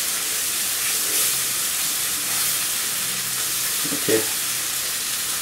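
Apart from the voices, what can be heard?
masala frying in a pan for aubergine and potato curry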